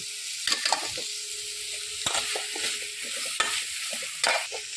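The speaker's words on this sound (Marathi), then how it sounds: "आता टाकणार आहोत आपण कोलंबी" Prawns frying in a hot pan while a spatula stirs and scrapes through them, a steady loud sizzle under repeated close scraping strokes.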